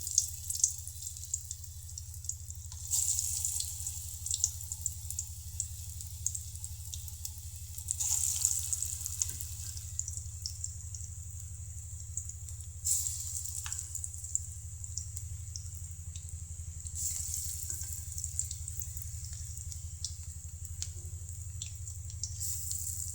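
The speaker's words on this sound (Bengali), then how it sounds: "আমার তেলটা প্রায় গরম হয়ে আসছে। আমি এখন একটা একটা করে বড়া দিয়ে দিব।" Vadas, lentil fritters, dropped one at a time into hot oil sizzle with a steady bright crackle that swells in waves as each batch goes in, with no talking.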